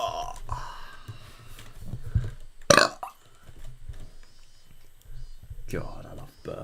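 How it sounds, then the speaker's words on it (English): A loud, abrupt burp bursts out right after someone chugs a drink, a single short rasp standing clear above quiet background murmur, with talking before and after it. "God, I love burping."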